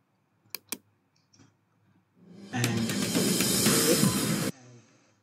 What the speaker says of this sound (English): Press a spacebar, it will pause successfully through your spacebar.